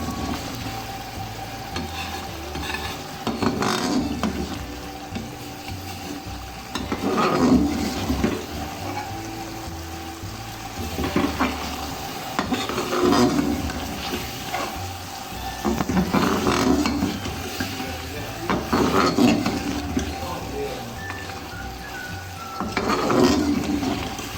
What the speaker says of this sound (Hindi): अब इसको मैं अच्छी तरह गोश्त को भून लूँगी।